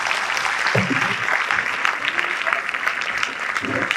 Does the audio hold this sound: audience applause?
yes